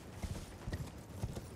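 Horse hooves clip-clopping in the Elden Ring video game as a mounted enemy with a big sword rides, a soft, steady rhythm of about three to four muffled footfalls, fairly quiet under the game mix.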